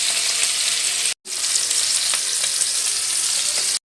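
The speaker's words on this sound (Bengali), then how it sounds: "এখন সোয়াবিনটা ভেজে নিচ্ছি" Soybean chunks frying in hot white oil in a pan give a loud, dense, close-up crackle and sizzle that cuts out briefly once and then resumes steadily.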